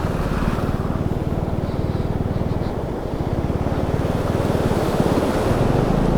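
Steady rushing river water flows continuously at close range at a high-altitude crossing on the way to Pangong Lake, Ladakh, a dense broadband wash with faint gusts of wind over it and no voices.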